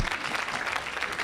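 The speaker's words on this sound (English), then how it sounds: "a big round of applause" A crowd at a Somali community celebration night applauds warmly, a dense, even wash of clapping that runs throughout at moderate volume.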